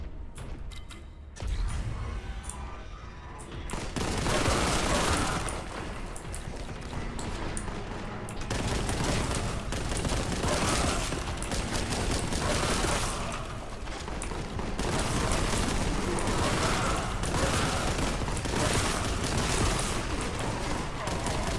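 A bolt gun fires in Warhammer 40K Boltgun, loud continuous rapid booming shots with mechanical clatter, filling the scene almost throughout after a brief quieter opening.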